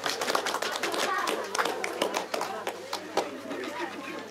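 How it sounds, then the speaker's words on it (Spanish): Warm applause from family and fellow villagers at a 2019 family gathering in Angahuilca, Santa Ana de Tusi, welcoming the steward Cristian to speak; dense, steady clapping of a modest crowd lasting several seconds. "vamos a recibirlo con caluroso aplauso"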